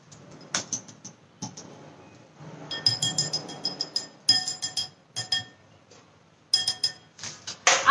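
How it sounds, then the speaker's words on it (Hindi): Butter and sugar being creamed by hand in a bowl for an eggless Parsi mawa cake, giving irregular clinking and scraping taps of a utensil against the bowl, close and fairly loud, with short pauses between bursts and no talk. "बटर और शुगर को बहुत अच्छे से मिक्स कर रहे हैं."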